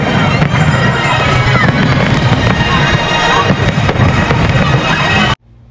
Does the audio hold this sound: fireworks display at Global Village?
yes